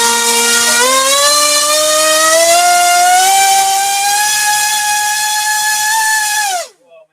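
An electric RC flying-wing motor with a 5-7 inch propeller spins up to half throttle, drawing about 720 watts, a loud close whine rising steadily in pitch, holding, then cutting off abruptly.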